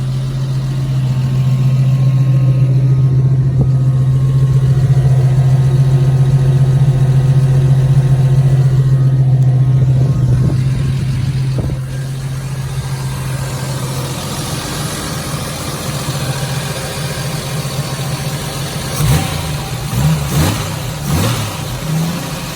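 A 1983 Jeep CJ7 engine with an ignition misfire idles loudly and steadily for about ten seconds, then drops to a rougher, uneven running note with a few sharp revs near the end.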